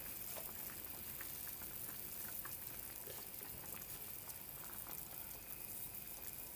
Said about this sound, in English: My carrot dumpling is boiling up.